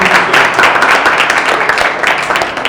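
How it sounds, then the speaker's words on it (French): Applause from an audience at a finalist group draw event, steady scattered clapping sustained throughout, moderately close, with a faint voice underneath. "Je crois quand même que ça s'applaudit"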